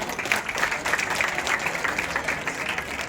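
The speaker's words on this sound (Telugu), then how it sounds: "మరొకసారి మీరంతా క్లాప్స్ కొట్టాలమ్మా" An audience clapping for award recipients at a ceremony where volunteers are honoured, a steady round of dense, close applause held at an even level the whole time.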